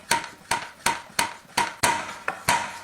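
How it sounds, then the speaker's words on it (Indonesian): A knife chops tempeh into small pieces on a board: eight sharp, evenly spaced strikes about a third of a second apart, close and clear with no talking. "jika suka juga tempenya itu bisa dirajang kecil-kecil seperti ini."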